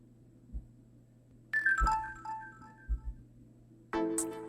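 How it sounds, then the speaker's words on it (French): A short electronic ringtone chirps twice amid quiet room noise, with a few soft thumps, the second burst louder and brighter. "La sonnerie de mon téléphone me réveille."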